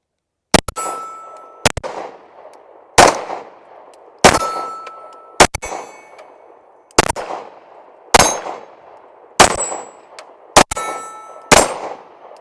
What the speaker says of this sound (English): We're just going to shoot 10 rounds on the steel plates.